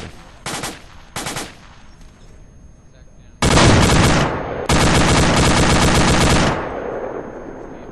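Video game gunfire in an urban combat setting: two short machine-gun bursts, then two long, loud sustained automatic volleys, close and dense, with a faint background rumble between them.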